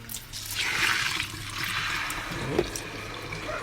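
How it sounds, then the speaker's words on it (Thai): Water is poured steadily into a rice mixture in a kitchen, a continuous close splashing and trickling stream with one small knock partway through. "ข้าวใส่แล้วคราวนี้ก็เอาน้ำใส่"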